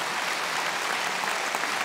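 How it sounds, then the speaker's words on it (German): A studio audience on a German television show stage gives loud, sustained applause, a dense, even wash of clapping from many hands with no break and no voices on top. "Großen Applaus zunächst."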